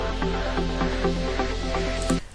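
Electronic production effects bed with a repeating pulse of short beep-like tones and soft chiming notes over a sustained low drone and airy noise, steady and mid-level, ending with a brief rising noise burst before stopping.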